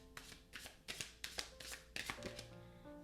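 Tarot cards are pulled and shuffled from a deck in a quick series of close, crisp flicks and slides, about eight short rustles with no talking.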